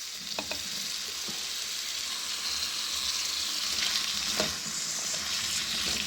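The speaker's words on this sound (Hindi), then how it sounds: "ये देखिए ऐसा ऐसा फ्राई हो रही है।" Potatoes and mixed vegetables fry in a pan with a steady, close broadband sizzle, broken by a few light scrapes and clinks of stirring.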